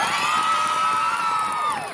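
A warm-up crowd at an Ekeby 2016 event roars with loud cheering, shouting and whoops, a sustained dense mass of voices that stays near and full before easing slightly at the end.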